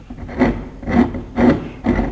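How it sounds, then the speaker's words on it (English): A router table's thumb screw is loosened from underneath, giving four rhythmic, close scraping and rubbing strokes of metal and wood, each about half a second apart. "Loosen that thumb screw from underneath"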